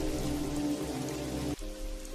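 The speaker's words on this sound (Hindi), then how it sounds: "वो दोनों बच्चों को लेकर कैलाश के घर की तरफ तेज बारिश में चलते हैं" A cartoon heavy-rain effect from a night storm pours as a continuous hiss mixed with a low tonal bed, then cuts off abruptly about halfway through before a quieter continuation.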